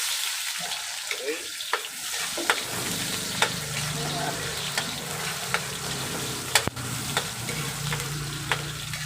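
Chopped white onion frying in a pan for chopsuey, a steady sizzle with scattered sharp clicks and scrapes from stirring, close up and without talk.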